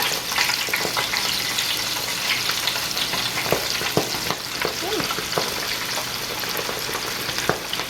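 Shrimp fry in a deep fryer for po'boys, a loud, steady bubbling sizzle with intermittent crackles and pops heard up close, with no voices.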